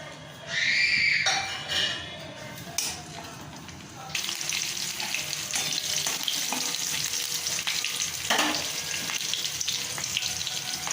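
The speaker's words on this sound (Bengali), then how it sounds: "এবার ওই একই তেলে আমি কালো জিরে আর কাঁচা লঙ্কা চেরাগুলো দিয়ে দেব।" Nigella seeds and slit green chillies hit hot oil already used for lightly frying hilsa, setting off a loud burst of spattering that settles into a steady, close sizzle with occasional sharper crackles.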